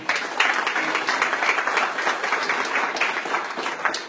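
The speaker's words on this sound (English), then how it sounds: "give yourself a round of applause, please" People at a town hall on heroin applaud themselves, a steady, fairly full wash of clapping that stays even for about four seconds without pause.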